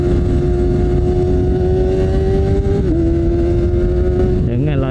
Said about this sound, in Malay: Jangan layan bunyi ngauman 4 dapur.